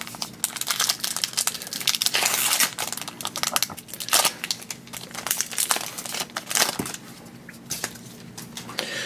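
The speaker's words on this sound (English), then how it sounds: "open up our angel pack." Foil wrapper of a Magic: The Gathering Modern Masters 2017 booster pack crinkling and tearing open, a continuous close, loud rustle with no talking.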